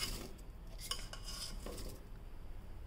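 Millet and potato pieces go into a pressure cooker with soft metallic clinks and scrapes of a spoon against the pot, faint and close, with no talking.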